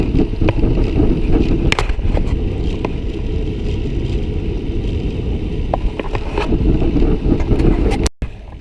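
Headwind roars against cyclists riding in a group on a flat stretch of a Tour de France stage route near Quinsac, a loud continuous buffeting rumble of wind on the microphone with no voices.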